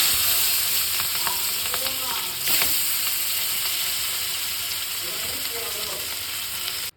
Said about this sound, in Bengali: মাছগুলো হালকা করে ভাজবো ভেজে ঝোল করবো মাছগুলো ভেজে নিই সব